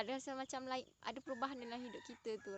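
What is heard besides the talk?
chickens clucking and rooster crowing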